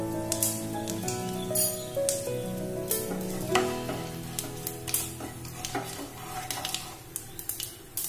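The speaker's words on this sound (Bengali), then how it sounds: "এবার ওই মাছ ভাজার যে তেল রয়েছে ওই তেলের মধ্যে আমি দিয়ে দেবো ফোড়ন, দিয়ে দেবো 1/2 টিস্পুন রাঁধুনি।" Radhuni seeds tempering in hot oil left from frying fish, sizzling and crackling steadily throughout with bursts of spitting and stirring scrapes, over a background of low tonal sound.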